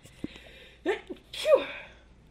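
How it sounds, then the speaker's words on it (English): A single person sneezes once, with a short inhaled buildup and then a sharp burst, close and alone in a quiet room. "Hold on, I got I got a sneeze coming."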